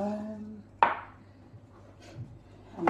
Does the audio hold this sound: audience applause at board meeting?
no